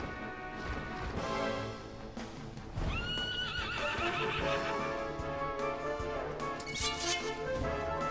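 A fire horse whinnies loudly in the video game Dragon Quest XI: Echoes of an Elusive Age, its neigh rising over steady game music that plays throughout.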